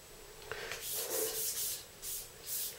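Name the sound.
sanding smooth a motorcycle fork stanchion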